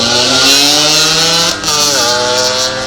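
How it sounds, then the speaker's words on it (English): A 250 Yamaha two-stroke twin motorcycle races at a hillclimb, its engine screaming loud and close, briefly dropping in pitch mid-pass before pulling hard again. "Paul Ledgard, 250 Yamaha"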